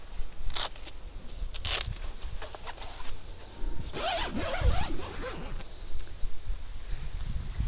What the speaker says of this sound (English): zip our door shut.